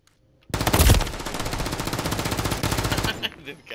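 Rapid automatic gunfire from the video game Modern Warfare 3 erupts suddenly and loudly after a brief quiet, sustaining a fast, dense burst of shots for about two and a half seconds before tapering off.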